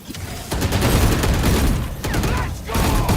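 Swarm grenades from the video game Valorant, a loud, dense burst of rapid popping explosions and chattering gunfire, continuous and close with brief lulls.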